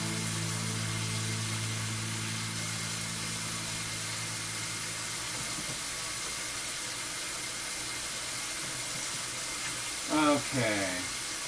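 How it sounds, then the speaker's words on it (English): A kitchen tap runs steadily while dishes from cooking instant yakisoba noodles are rinsed, a continuous close hiss of water with a low hum beneath and a brief clatter near the end. "Give everything a quick rinse, and we'll be back in business with a new egg"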